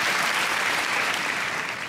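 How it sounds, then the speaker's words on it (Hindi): An audience on a Hindi comedy talk show applauds for guest Sunita Marshall, a dense, steady burst of many hands clapping throughout, fairly loud and with no talking over it. "तालियां बजनी चाहिए सुनीता के लिए।"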